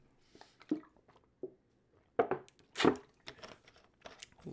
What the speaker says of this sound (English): Water bottle noises.